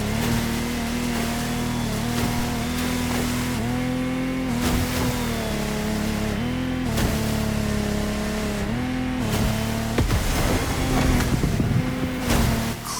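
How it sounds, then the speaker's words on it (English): Lamborghini Technomar speedboat engine in The Crew Motorsport offshore ocean race, a loud steady droning roar with rising and falling pitch shifts as it accelerates and eases off, continuous throughout with no talk. "This time we're going offshore with way bigger boats, including the incredible Lamborghini Technomar."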